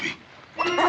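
A puppy whimpers and yips in short bursts near a voice, the whines rising twice over a steady room background.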